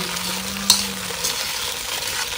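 Jalapeño peppers sizzle in hot oil with a steady crackling hiss, a utensil scraping once through the pan.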